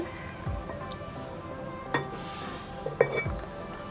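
Small ceramic jar handled, giving a few light clinks and taps spaced irregularly, close and fairly soft against a quiet room background.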